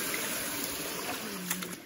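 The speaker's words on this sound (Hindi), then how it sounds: "ये देखिए कितना सुंदर सा झरना जैसे है ये" Small waterfall on a stream in Arunachal Pradesh, a steady close rush of falling water with broadband splashing that stays constant throughout, with no talk.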